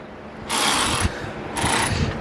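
Ratchet wrench tightening bottom screws during an intercooler install on an EcoBoost engine, two bursts of fast clicking ratcheting, close and fairly loud, no voices.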